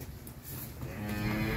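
Cattle moo on a Vinh Long cattle farm, one long low drawn-out call rising near the end, close and clear over faint farmyard background.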